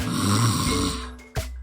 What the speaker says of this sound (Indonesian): sudah terdengar dengkuran yang tidak sedap